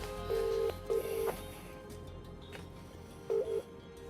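Touch-tone keypad beeps as a High Court enforcement agent dials a phone number to reach a café owner: a few short tone bursts in two clusters separated by a quiet pause, clear and close, with no talking.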